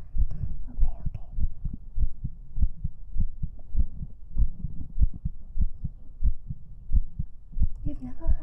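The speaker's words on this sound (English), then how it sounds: "You've never heard a heartbeat, actually." Steady heartbeat pulses in a close ASMR-style recording, with soft low thumps repeating at an even rhythm of roughly two per second throughout, a faint voice murmuring briefly near the end.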